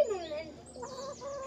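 A rooster held in a cage gives a brief, close clucking call, with low background noise.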